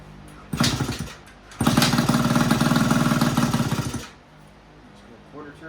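A small scooter engine fires in a short sputtering burst, then runs for a few seconds with a rapid, uneven putter before dying out, heard close by.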